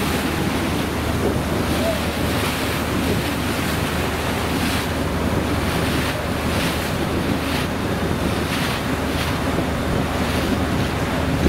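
Water taxi travelling on the Elbe in Hamburg harbour, heard from inside the boat: a loud continuous rush of water and engine rumble mixed with heavy wind buffeting the microphone, no voices.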